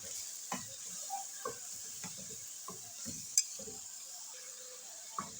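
Beef liver (kaleji) sizzles steadily in a pan while being roasted, a constant hiss broken by occasional stirring scrapes and a light clink from a spoon against the metal.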